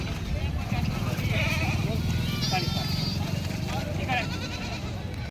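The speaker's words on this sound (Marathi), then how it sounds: "पाहू शकता यांच्यापाशी गावरान जातीची शेळ्या आहेत" Native desi goats bleating at a crowded village goat market in Vasmat, Hingoli district, with someone talking over steady crowd chatter and several high, wavering bleats rising through the din.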